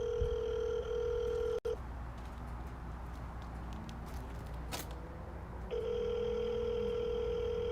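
A phone ringback tone plays while a DoorDash driver calls a customer: one long ring, then a quiet gap with faint background sounds, then a second ring.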